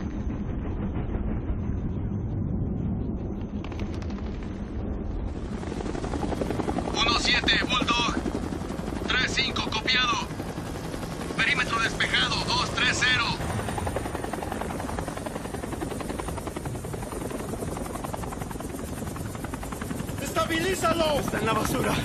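A military helicopter roars steadily and loudly throughout a combat evacuation scene in a Latin American Spanish-dubbed film, while urgent shouted voices cut in over the constant rotor noise.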